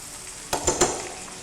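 Chicken pieces frying in a pan, with three quick stirring scrapes and a soft sizzle in a short, quiet moment and no talk.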